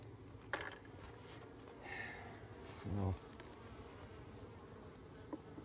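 Honey bee swarm being moved at night to a bee yard, a faint, low, continuous buzzing drone in the background with a brief louder rustle partway through.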